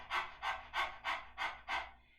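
Six rapid, forceful nasal exhalations of Kapalbhati pranayama breathing, evenly spaced and close, with no talking.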